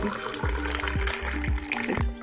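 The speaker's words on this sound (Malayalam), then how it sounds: "എന്നിട്ട് ആ വെള്ളം ഒഴിച്ചു കൊടുക്കുക" Strained pigeonwing flower water poured into a glass, a close trickling splash with a few gurgling bursts over about two seconds, no talk.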